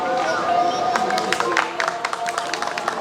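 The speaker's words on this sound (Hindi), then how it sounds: "कृपया जोरदार तालियां बजाकर इन सभी का स्वागत करें।" Audience clapping welcomes guests at the Delhi Star Awards 2021 ceremony, a steady patter of hands with louder bursts, under crowd murmur and voices.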